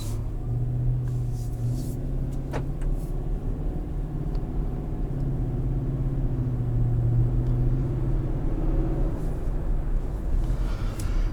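A 2023 Infiniti QX80 on the move, heard from inside: a steady low engine rumble and road roar with slight swells as it accelerates, continuous throughout, no voices.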